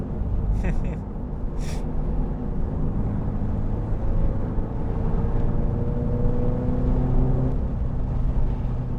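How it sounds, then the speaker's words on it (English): A Subaru BRZ / Toyota GR86 engine drones steadily on the highway, its pitch climbing as it revs out through the gears, heard from inside the cabin. "I really enjoy just revving out the car and attempting to bang through the gears."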